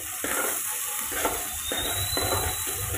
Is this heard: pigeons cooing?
no